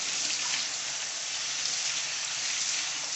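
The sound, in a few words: rinsing dry black beans with cold water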